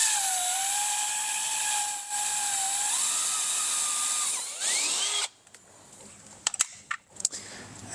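A power drill bores into a Polaris RZR XP 1000 fender to fit an insert: a steady high whine runs about five seconds, its pitch rising partway, then cuts off, leaving a few sharp ticks and clicks close by.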